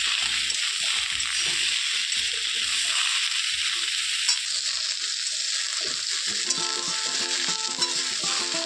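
Soybean chunks fry and sizzle in a pan for a pumpkin chokka dish, a steady bright hiss with the scrape and clatter of stirring underneath.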